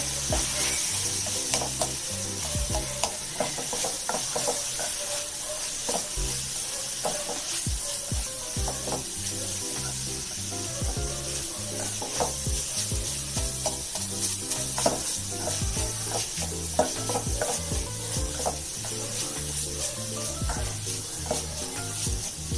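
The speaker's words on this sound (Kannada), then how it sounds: "ಒಂದೆರಡು ನಿಮಿಷ ಹಿಂಗೆ ಹುರ್ಕೋಬೇಕು ಮೀಡಿಯಂ ಫ್ಲೇಮಲ್ಲಿ" Spiced chicken roll filling stir-fried in a pan over medium flame, a continuous sizzle with a steady series of soft scraping and tapping stirs, close and without voices.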